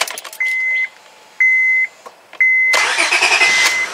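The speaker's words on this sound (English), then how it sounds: "That is a good sounding starter." Three steady electronic beeps sound, then a car engine fitted with a new Honda starter cranks briefly and fires up loudly nearby.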